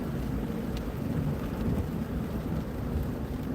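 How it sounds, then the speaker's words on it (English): Steady rain hissing and pattering without a break, under a low rumble of thunder and wind, heard from a moving vehicle for a few seconds with no talking. "It's raining, so I'm not stopping."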